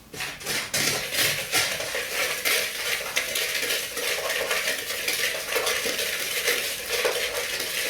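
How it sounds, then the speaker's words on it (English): A whisk works briskly through a bowl of flour, sugar, baking soda, baking powder and salt for a berry cobbler, scraping and tapping in quick, continuous strokes with faint clinks, close and fairly loud. "we're going to whisk that all together"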